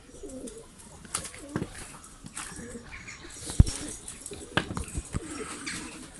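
A homing pigeon coos softly in a few short throaty calls, close by, among scattered rustles, taps and faint background noise, with no clear speech.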